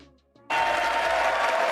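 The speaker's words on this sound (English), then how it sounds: "Look, all of these people are clapping. The Republicans are clapping." Republican lawmakers burst into applause suddenly after a moment of quiet, and the dense clapping stays loud and steady to the end.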